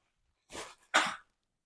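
A person sneezes twice in quick succession, short explosive bursts close to the microphone in an otherwise quiet indoor room.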